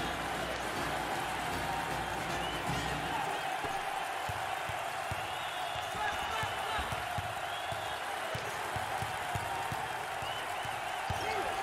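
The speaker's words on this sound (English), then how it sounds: "Listen to the crowd. You can cut the intensity with a knife." A crowd roars in a college basketball arena during a Tulane at Houston game, dense sustained cheering with rhythmic stomping and ball bounces underneath, loud and continuous throughout.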